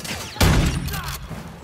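A single loud gunshot from a long range barrel gun in a video game, a sharp heavy blast followed by a ringing, fading tail.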